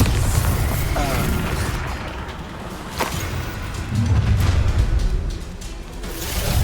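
A Bombarda spell explosion in the Hogwarts Legacy video game, a heavy boom rising out of an ongoing rumbling combat din with a sharp crack near the middle and a surging blast afterward.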